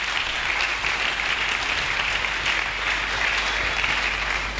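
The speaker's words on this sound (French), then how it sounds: "Je voulais que quelqu'un acclame très fort" Church congregation at a sermon breaks into steady applause, an even wash of clapping that holds at moderate volume throughout.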